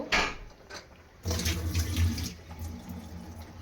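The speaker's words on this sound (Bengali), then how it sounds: "এই যে সামান্য জল দিলাম।" A little water splashes into a cooking pan of pangas fish curry with tomato, first a brief pour, then a steadier gurgling stream for about a second, close and fairly quiet.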